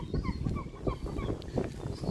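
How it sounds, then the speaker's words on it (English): Several seagulls gathered over scattered dry pet food give repeated short squawking calls, moderately close over a low rumbling, scuffling background. "Here's the seagulls"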